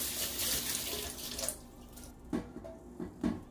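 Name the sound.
water running while rinsing hair dye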